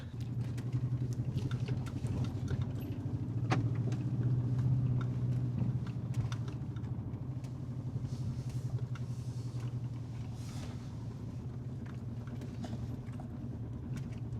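A turbocharged Audi drives with a misfiring engine, a low steady rumble with an uneven pulsing beat and faint rattles inside the car, no voices.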